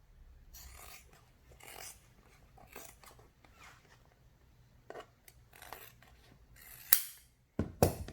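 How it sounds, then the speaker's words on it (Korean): Scissors cut through blue air bounce repair fabric in a series of quiet, close snips spread across the moment, ending with a few louder clacks as the blades close and the piece is set down. "가위로 잘라 보겠습니다."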